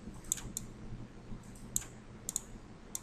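Computer keyboard shortcut presses, a few crisp, faint key clicks scattered over a few seconds, some in quick pairs, above a low steady background hum.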